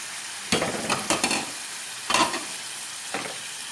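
Chicken and tomatoes for a masiggah cooking in a pan, with a soft sizzle underneath and a few louder clattering stirs of a utensil against the pan at irregular intervals.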